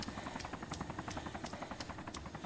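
A helicopter in the video game DayZ thumps with steady, rapid rotor beats, loud and continuous, with no voices over it.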